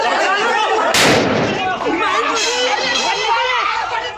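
A single loud gunshot-like blast rings out during a shooting in Muzaffarpur, Bihar, over continuous, agitated crowd chatter and shouting.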